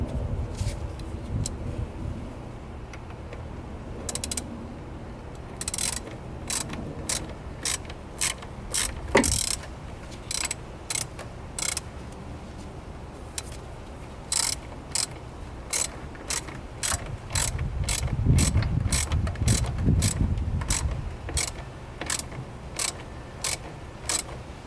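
A ratchet clicks in rapid bursts while tightening the battery terminal on a Ram 1500, each stroke a quick run of close metallic ticks with short pauses between, no talking over it.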